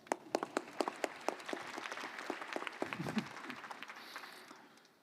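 Conference audience applauding to welcome a panel speaker, a dense run of sharp claps that peaks at the start and then thins into a softer, steady patter.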